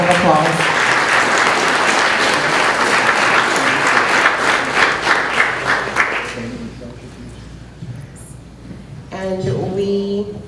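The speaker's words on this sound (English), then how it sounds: "and give them another round of applause." Loud audience applause at a community gala honoring local leaders and youth, dense clapping for about six seconds that fades out before a voice starts speaking near the end.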